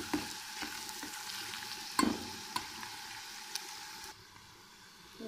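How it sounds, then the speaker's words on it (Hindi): Onions with ginger-garlic paste fry in a pan with a steady sizzle, broken by a few stirring scrapes and taps; no one speaks. "अब हम इसमें शामिल कर देंगे अदरक लहसुन का पेस्ट।"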